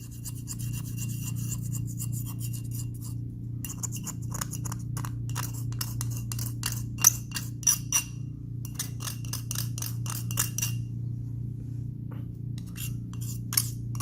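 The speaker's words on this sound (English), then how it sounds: "So I will remove anything which is stick to the walls of the glass mortar." A spatula scraping residue from the inner walls of a glass mortar during compounding of a clobazam suspension, giving a steady close rasping rub with small clicks over a constant low hum.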